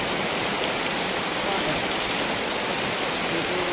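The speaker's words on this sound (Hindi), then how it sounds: "इतनी बारिश आ रही थी यहाँ पे।" Heavy rain pours down in a steady, dense broadband roar, loud and continuous throughout with no pauses.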